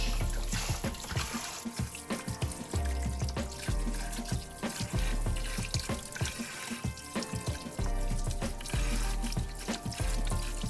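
A fish is rinsed and washed under a running kitchen tap, with water splashing and trickling steadily and close, with uneven gurgles as it is handled.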